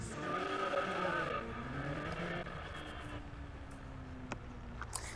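Formula Midtown race car in the Midtown Madness 3 Xbox game: a steady, loud engine drone with tire squeal and skidding, ending with brief clunks, heard alone without talk.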